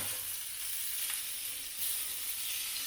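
Broccoli being stirred around a hot pan gives off a steady, even sizzle of frying, a continuous soft hiss with no talking over it.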